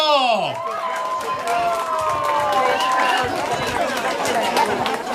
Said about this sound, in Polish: Wielkie brawa dla niego!